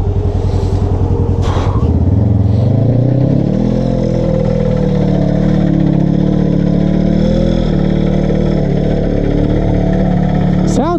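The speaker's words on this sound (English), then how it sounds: "Sounds like something's come loose in that clutch cover." A dirt bike or ATV engine runs close by on a trail, idling and revving with a mechanical rattle from a loose clutch cover, while voices talk over it.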